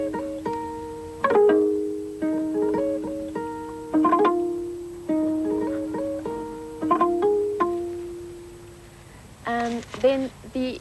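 Short, pretty melodic phrases answer one another like little reed flutes imitating each other, played on guitar in an African-style piece; clear plucked notes ring and decay in separate bursts, close and alone.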